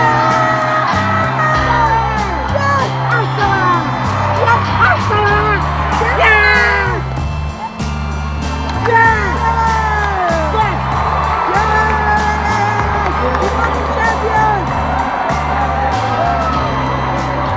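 Large record-breaking crowd at the new Wembley Stadium for a Chelsea versus Arsenal women's match, loud continuous cheering, whoops and yells with a speaking voice carried over the roar.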